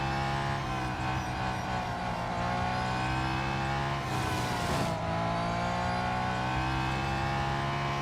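A race car engine in Real Racing 3 drones at steady high revs throughout, a loud sustained whine with a brief burst of tire noise partway through.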